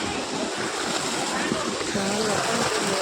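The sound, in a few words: water flowing from a pumped motor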